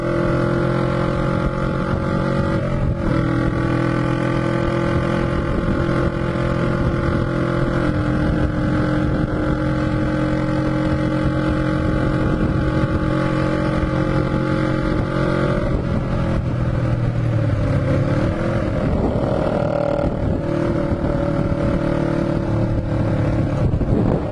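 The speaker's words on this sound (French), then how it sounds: "je vais laisser la moto parler d'elle-même" A Honda CB twin motorcycle engine drones steadily while riding, a dense low rumble that shifts pitch briefly midway as the rider changes speed, with no talking.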